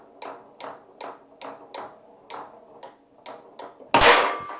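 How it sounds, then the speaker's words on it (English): A foosball ball taps back and forth against a table rod in a quick series of light, sharp ticks, about a dozen evenly spaced, ending in one loud crack as the ball is shot. "It's called a tic-tac shot because of the name the ball makes on the rod."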